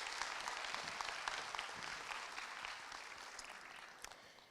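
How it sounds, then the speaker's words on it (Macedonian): An audience at a folk ensemble's annual concert gives sustained applause. The clapping sounds dense and even, fairly quiet and distant, and it slowly fades toward the end. "Да ги поздравиме со еден аплауз."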